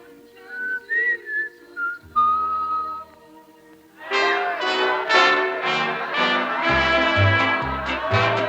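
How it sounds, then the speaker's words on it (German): A man whistles a song tune in clear, close melodic phrases, and then fuller music with a low bass takes over for the second half. "Und wenn es ganz mulmig wird, dann pfeift er nur noch so."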